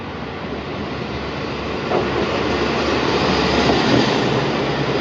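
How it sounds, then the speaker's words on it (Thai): Train pulling into a Japanese railway station in Kyushu, a continuous loud rushing rumble of wheels and carriages that swells midway and holds close by, with no voices. "まもなく列車が参ります"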